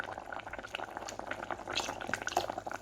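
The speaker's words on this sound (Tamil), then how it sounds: "இப்போ பாருங்க மீன் கொதா கொதாண்டு கொதா கொதாப்பா அவிஞ்சு கொண்டு இருக்கு" Sardine fish curry with boxed coconut milk bubbles in a pot, giving soft, uneven blips and pops close by at a low, simmering volume.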